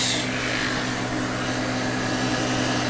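Electric clippers fitted with an A comb run steadily while grooming a poodle's head, giving a constant buzzing whir with no breaks or talk.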